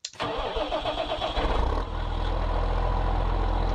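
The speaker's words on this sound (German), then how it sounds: "Motor an." A Case IH Puma tractor in Farming Simulator 19 cranks to life with a sharp start, then settles into a steady, loud diesel idle that carries on alone.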